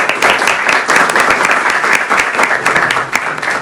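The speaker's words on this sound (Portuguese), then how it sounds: "Uma salva de palmas para Jefferson e Alba." Loud, close applause from an audience at a discussion event on racial issues in Brazil, a thick, steady burst of many hands clapping for two guests, with no talking over it.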